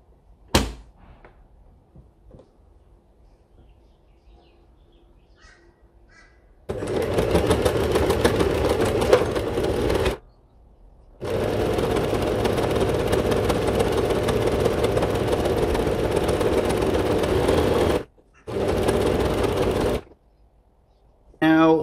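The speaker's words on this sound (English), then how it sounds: "I'm going to sew down that edge there and then sew down this edge here" A sewing machine stitches the edges of a sleeping mat cover in several long runs with brief pauses between them, a fast, steady mechanical whirr after a quiet start with some faint talking.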